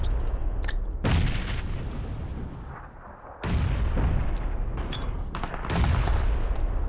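Several heavy booms and blasts from a PUBG match on Erangel, including a grenade explosion, come in bursts with rumbling tails, loud and close, and a brief pause before another sharp blast.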